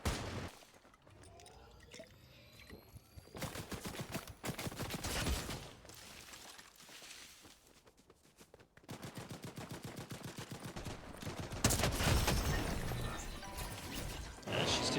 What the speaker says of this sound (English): my god, they both got Gatling guns.